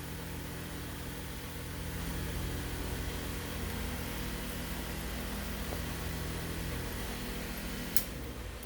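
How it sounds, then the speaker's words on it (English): A 12-volt pump hums steadily while circulating antifreeze through pressure washing equipment being winterized, a constant mechanical drone with a faint click near the end. "flip our switch here on the 12-volt pump. That's going to pump fluid into the bucket"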